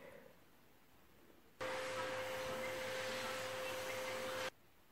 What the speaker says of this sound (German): Das ist der Staubsauger.